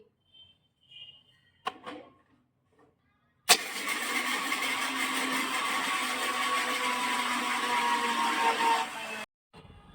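A kitchen mixer grinder pulverises peanuts and white sesame seeds. After a few faint knocks, the motor kicks on abruptly and whirs loudly and steadily for about six seconds, then cuts off.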